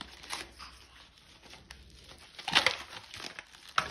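Plastic packaging torn and crinkled open by hand without scissors, close up, with soft crackling rustles and a sharper tearing burst near the end.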